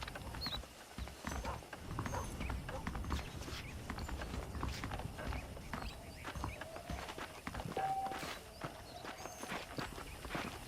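Saddled horses walking in the Red Dead Redemption video game, a steady clip-clop of hooves on the ground, moderately close and fairly quiet, with no talk over it.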